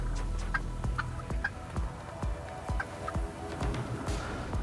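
Wild turkeys calling during a rainy Florida turkey hunt, including an agitated old hen, with repeated faint yelps and clucks spaced through steady background noise and no talking.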